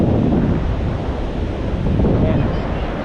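Sea waves wash continuously onto a beach at Dingalan, a loud, broad rushing surf mixed with strong wind buffeting the microphone.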